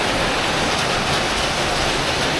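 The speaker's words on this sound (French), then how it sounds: "il était censé pleuvoir toute la journée" Steady rain falls in a dense, even hiss close by, a continuous broadband wash with no breaks and no voices, on an early day in Australia.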